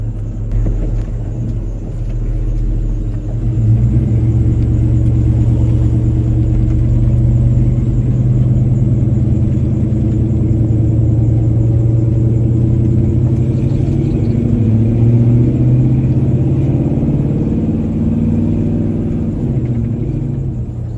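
A loud, low engine rumble drones steadily as an old car drives along on the road, with a fuel pump starving for fuel, revving up slightly after a moment and then holding a constant, throaty hum.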